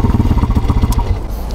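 Regulmoto TE Tour Enduro motorcycle with a six-speed gearbox idling near 1500 rpm: a close, steady low throbbing pulse that thins out toward the end.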